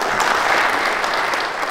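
Audience applause at a talk, a dense, steady wash of clapping that carries through the whole moment with no break and no speech over it.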